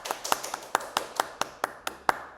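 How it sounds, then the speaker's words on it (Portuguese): A small group claps in a steady, even rhythm of about ten sharp, close claps for Gabriel, with no talk over it. "Palmas pro Gabriel."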